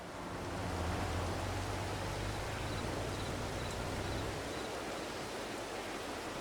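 Steady rain from the Farming Simulator 22 video game, a dense, even hiss of falling water that holds constant throughout, fairly loud with no voices over it.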